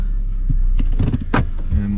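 2019 Hyundai Santa Fe SE starting back up inside the cabin: a few clicks and mechanical thumps, a brief whirring surge, then a low steady hum settling in, close and fairly loud.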